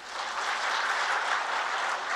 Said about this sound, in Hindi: एक बार अपने लिए तालियां बजाइए,